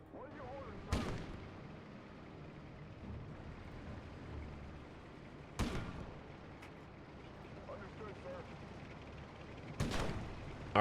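In the World War II game Gates of Hell, three sharp gunshot or cannon blasts ring out several seconds apart over a low background rumble, each loud and abrupt with a brief echoing tail.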